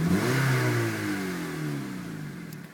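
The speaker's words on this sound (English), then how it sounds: "It sounds good with the SI axle back." A 2006 Honda Civic with an Si axle-back exhaust revs up and lets the engine fall back, a steady loud mid-pitched drone that rises early and slowly sinks across the clip.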